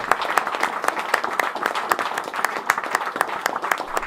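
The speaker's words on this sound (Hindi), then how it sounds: "लेकिन तभी पीछे कहीं से ताली बजनी शुरू होती है" An audience at a poetry recitation breaking into applause, a dense, steady patter of many hands clapping at moderate distance, with no voices.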